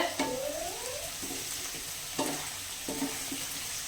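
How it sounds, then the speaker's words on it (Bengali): Carrots, beans and cauliflower fry for fried rice while a spatula scrapes and stirs them in the pan, giving repeated close scraping strokes over a steady sizzle. "এই যে এখানে ফ্রাইড রাইসের জন্য সবকিছু ভাজা হচ্ছে"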